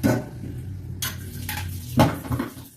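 A warm metal cooking pot is being washed out after saltfish prep, with sharp clanks and scrapes of metal at intervals and softer rattling and rinsing between them, close and loud.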